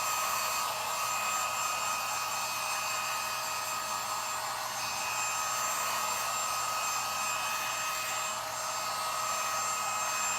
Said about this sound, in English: I'm going to give this a quick dry because it's like a little wet.